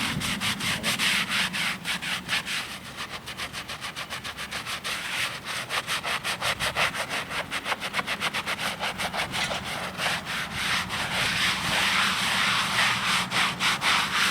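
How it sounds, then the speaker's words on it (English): Steady back-and-forth scrubbing on a stone headstone, a dense gritty rasp with rapid regular strokes, close and continuous throughout with no talking. "And scrubbing this, it's like a satisfying kind of deal."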